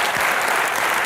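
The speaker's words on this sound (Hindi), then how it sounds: "जोरदार तालियां एक बार सुष्मिता सेन के लिए।" Dense, steady audience applause for Sushmita Sen in a comedy show studio, a loud wash of clapping with no voices, lasting about a second.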